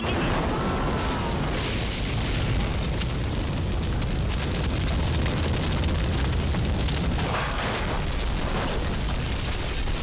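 A bomb blast inside a vehicle in a Telugu action movie scene: a loud, sustained roaring explosion with fiery rumble and debris crackle filling the whole stretch, no speech.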